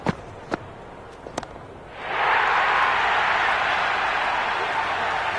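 Enthusiastic crowd in the stands at a match: a few sharp isolated knocks, then a loud, steady roar of cheering swells in abruptly and holds, broad and close.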